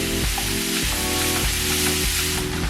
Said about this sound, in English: let's go ahead and get these sausage browned up. I'm just breaking it up as I go